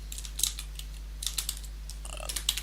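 Code is typed on a computer keyboard in short irregular bursts of crisp key clicks, close and fairly quiet over a steady low electrical hum.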